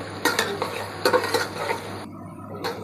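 Bay leaf, cinnamon and cardamom frying with onions in a pot for Old Dhaka-style bhuna khichuri, with stirring scrapes and clinks of a spoon against the pot over a steady sizzle, a few louder bursts, then a quieter stretch.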